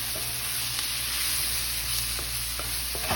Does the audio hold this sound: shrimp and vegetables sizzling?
yes